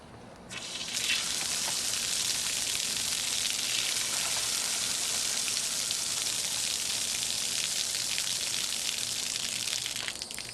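A valve opens and water rushes through a pipe repaired with wrap, a loud, steady hissing flow that starts after a second and holds to the end, with no talking.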